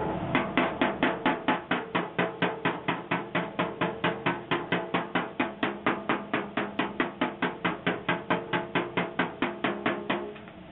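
Rapid, steady hammering on a sheet metal car body panel with a stud puller, dozens of close, ringing metallic taps in a fast, even rhythm that continue without pause.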